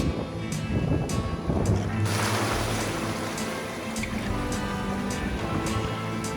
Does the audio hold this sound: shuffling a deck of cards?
no